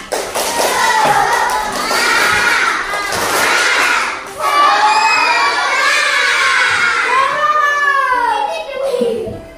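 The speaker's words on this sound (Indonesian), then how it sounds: "Tepuk semangat." A class of third-grade children loudly shouting a rhythmic 'tepuk semangat' clapping chant, voices rising in unison with sharp claps and thumps throughout, close and energetic.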